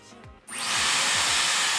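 A Dyson Airwrap hair styling tool whirs on abruptly, settling into a steady, loud airy roar that continues to the end.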